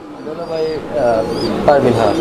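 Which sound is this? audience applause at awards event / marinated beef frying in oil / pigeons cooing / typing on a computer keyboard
pigeons cooing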